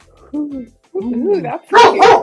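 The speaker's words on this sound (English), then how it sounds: "And that's my dog." A pet dog gives a few short, high yips and whining barks close to the listener, ending in a louder bark, with a person speaking briefly over it.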